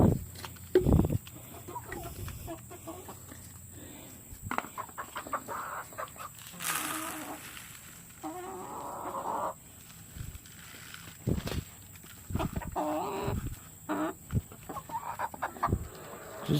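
Backyard chickens clucking and murmuring close by as they peck at watermelon, with scattered bursts of louder calls over quiet outdoor background.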